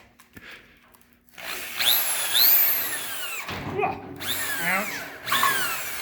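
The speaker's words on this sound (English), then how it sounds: "It's on a random size drill bit with a flapper wheel literally taped to it." A power drill spins a flap wheel taped onto a drill bit to ream a vehicle chassis: close, loud whining bursts of grinding and scraping start and stop several times, with a brief exclamation before it.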